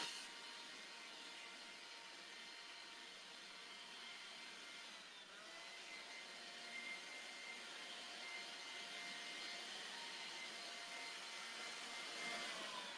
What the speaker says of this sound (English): you want to vacuum your couch